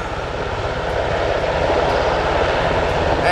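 An RCAF CH-148 Cyclone helicopter hovering at an air show during a hoist rescue, a loud, steady engine and rotor roar that fills the whole stretch without letup.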